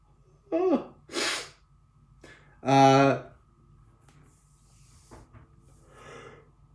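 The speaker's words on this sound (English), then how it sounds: "I think I'm going to sneeze, actually." A single loud sneeze bursts out after a couple of sharp inhaled gasps, followed by a quiet breath and a soft murmur.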